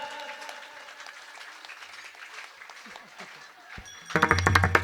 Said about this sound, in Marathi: अहो टाळ्या वाजव, मला नाही, टाळ्या टाळ्या एक साथ.